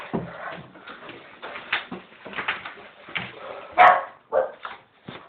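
A dog barks and yelps in a series of sharp, uneven bursts indoors in a dark house at night, moderately close, with a louder cluster of barks near the end.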